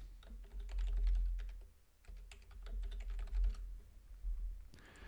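Rapid keystrokes clatter on a computer keyboard as an email address is entered into an account setup form, close and fairly quiet, with a brief pause partway through.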